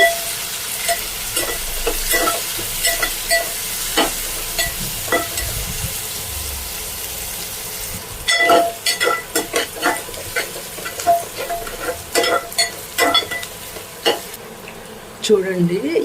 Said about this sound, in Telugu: ఉల్లిపాయలు ఇవి బాగా గోల్డెన్ బ్రౌన్ వచ్చే వరకు వేయించుకోవాలి